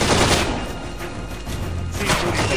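Rapid gunfire crackles in the stealth-action game Splinter Cell Conviction, with loud, dense bursts of shots and booms at the start and again near the end.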